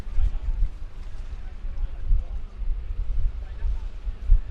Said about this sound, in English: Gator heading out as well, a little 6-litre hydroplane.